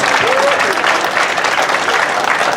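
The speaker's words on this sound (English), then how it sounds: "Let's give everybody a round of applause" Loud, dense applause from a crowd at a Philippine Weekend community gathering marking a village anniversary, steady throughout with a faint voice or whistle briefly audible early on.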